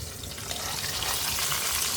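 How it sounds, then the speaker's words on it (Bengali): Hilsa fish frying in a pan, an even close sizzle and spatter that builds slightly and then holds steady for two seconds, with no voices over it. "একটু ইলিশ মাছ ভাজি করতেছি"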